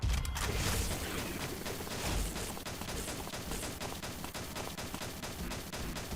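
Rapid, dense bursts of gunfire from the shooting video game Xshot rattle on continuously, loud and close like sustained automatic weapons fire, with no voices over it.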